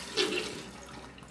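Beef broth poured into a crock pot over a venison roast: a brief, close splashing gush of liquid, strongest at the start, ending with a small knock.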